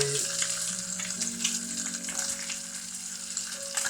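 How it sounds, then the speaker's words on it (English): Bacon frying in a pan for a full English breakfast gives a loud, continuous close-up sizzle and crackle that never lets up. "I'm laying my bacon"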